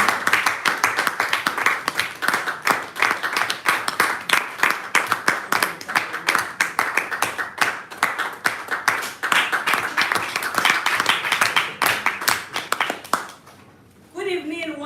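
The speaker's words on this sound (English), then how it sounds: "A round of applause for her." Audience applause at a Toastmasters meeting: sustained, dense clapping from a group, loud and close, continuing for most of the stretch before tapering off briefly near the end as a voice begins.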